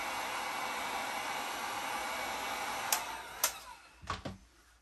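A heat gun hums in a steady, airy blow while warming a vinyl skin on the hull of a Pro-Boat Blackjack 42 RC boat, then stops, followed by a few sharp knocks and handling thumps.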